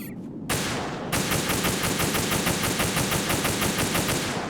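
Rapid automatic gunfire in Metal Gear Solid 2, a fast steady burst of loud, evenly spaced shots starting after a brief pause and continuing to the end, with no talking.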